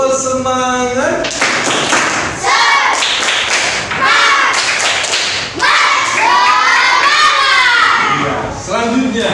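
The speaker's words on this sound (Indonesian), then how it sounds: "Tepuk semangat." A class of students performs a rhythmic spirit clap, patterned bursts of claps and thumps alternating with voices chanting and shouting along in a lively, close room.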